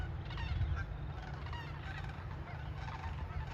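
Waterfowl honking at Creamers Field Migratory Waterfowl Refuge, a steady chorus of goose-like calls carried over constant low wind rumble, moderately distant and fairly continuous throughout.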